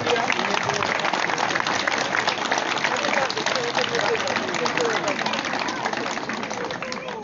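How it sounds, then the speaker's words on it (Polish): Sustained crowd applause for a man at an outdoor village welcome celebration, a thick continuous clatter of many hands, loud and steady for seven seconds, tapering slightly at the end with voices underneath. "Jeszcze raz wielkie brawa dla pana Jerzego."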